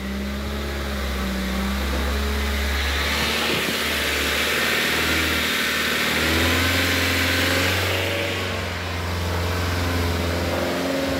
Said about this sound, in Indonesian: Digas dulu sampai 5000 pelan-pelan dulu ya.